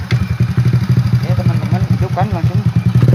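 A Honda Supra Fit motorcycle engine starts and settles into a steady, close idle with a quick pulsing beat, while people talk over it.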